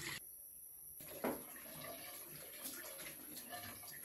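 Water splashes and runs while someone washes their face with plain water, a steady wet wash of tap-like flow with a brief louder splash, heard alone and close.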